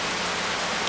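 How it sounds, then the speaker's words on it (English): Steady rain falls hard, a dense, continuous hiss of drops hitting surfaces nearby, with no voices. "it's looking like a nice little rain."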